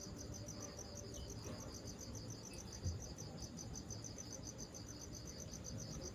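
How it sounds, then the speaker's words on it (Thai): A gecko calls at night in a house, a steady, fast chirping pulse sounding continuously in the background over quiet room noise, with no talk. "เสียงจิ้งจกจิ้งจก"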